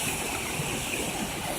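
Fountain jets running beside a bridge at a campsite, a steady broadband rush of spraying and falling water that stays constant and fairly close throughout, with no voices.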